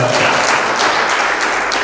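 Congregation cheering and applauding during a church service, a dense continuous wash of clapping and voices filling the whole moment at steady loudness.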